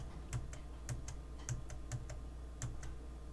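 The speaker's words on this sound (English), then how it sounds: "I'm just using the keyboard keys to go forwards" Computer keyboard keys tapped at an irregular steady pace, a run of distinct close clicks over a quiet room hum, with no voices.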